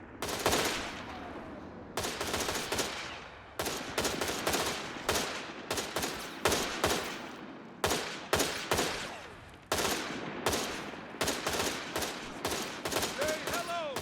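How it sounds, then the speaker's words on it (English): Paratrooper carbine fire in the video game Company of Heroes 3, with repeated loud, sharp gunshots in rapid bursts and volleys across the whole span, mixed with battlefield shots and brief voices. "Let's have a listen to the new sound effect for the Paratrooper carbine."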